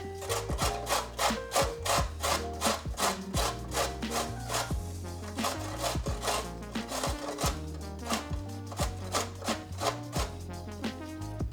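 Fresh ginger is grated by hand, giving a close series of rhythmic rasping scrapes, roughly a stroke or two per second, with short pauses and no talking.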